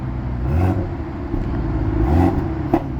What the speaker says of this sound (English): Now you could hear the exhaust.